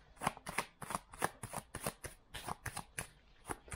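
Tarot cards are shuffled by hand in a steady rhythm of about a dozen crisp riffling slaps, close and moderately loud, with no one talking.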